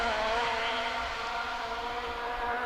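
A 1400 cc Mark II rally car engine roars steadily at high revs on a stage rally, a buzzy, sustained drone with no talking.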